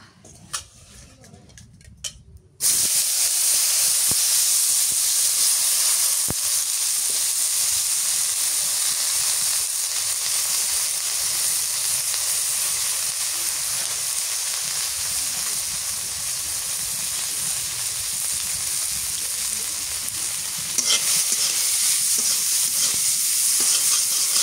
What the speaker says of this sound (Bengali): এই তেলের মধ্যে চিংড়ি মাছ গুলা ভাইজে নি।